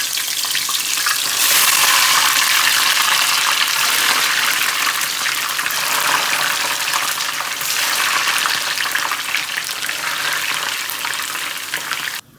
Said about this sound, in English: Guys, this oil is very hot, so I'm going to fry like this.